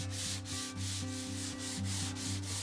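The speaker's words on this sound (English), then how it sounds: "Hand sanding this took a really long time" Steady back-and-forth rasping of sandpaper on fragile wood of a vintage vanity, rhythmic strokes repeating about twice a second, close and continuous with no voices.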